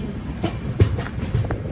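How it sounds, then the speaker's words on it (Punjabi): A train departing Hazur Sahib, Nanded, rolls along the tracks with rhythmic clacks and low rumbling thumps, close by and moderately loud. "ਲੋ ਜੀ ਆਪਣੀ ਟ੍ਰੇਨ ਰਵਾਨਾ ਹੋ ਚੁੱਕੀ ਹੋਈ ਆ"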